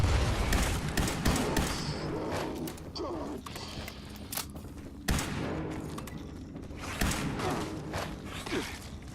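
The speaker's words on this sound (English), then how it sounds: "I take a shot at him with my laser rifle while being jumped by a glowing mole rat." Laser rifle shots crack in a Fallout 76 cave fight against a glowing mole rat and mole miners, sharp bursts repeating irregularly amid thumps and scuffling game noise.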